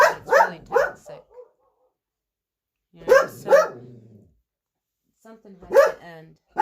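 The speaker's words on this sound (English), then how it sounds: "My apologies for the dog." A dog barks in sharp clusters of two or three, fairly close and loud, separated by stretches of silence, while a person talks in between.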